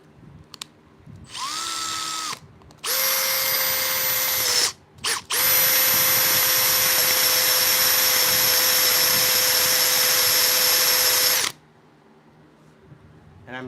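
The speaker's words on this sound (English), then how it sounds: "I'm drilling in reverse so it doesn't catch and break my wrist." A power drill running a step bit in reverse through metal during electrical work on a shuttle bus, whining loudly in two short bursts and then one long steady run before stopping.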